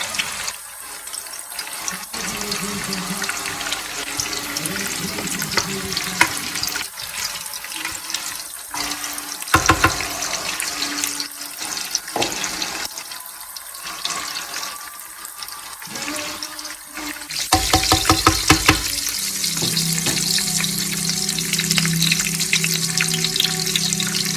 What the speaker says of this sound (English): So I've got the curry leaves in there. Just gonna add the onions.